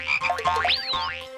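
A cartoon frog croaks in a quick run of rising and falling warbling calls, loud and close, alone without talk.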